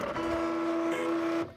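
A Cricut CRV001 cutting machine cutting a gasket gives a steady, close mechanical whine that holds one pitch for over a second, then cuts off abruptly.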